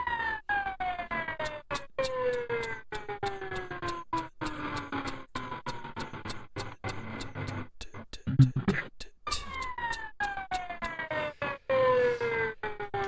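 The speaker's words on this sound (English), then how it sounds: "every one of these notes opens up the gate and we hear this jet engine" Jet engine roar chopped by a rhythmic gate into a steady train of short pulses, layered with other tracks including high whining tones that sweep downward, loud and continuous with no voices.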